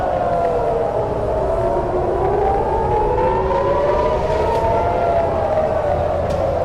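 An air raid siren wails continuously, its pitch rising and falling in long slow sweeps, loud and steady throughout.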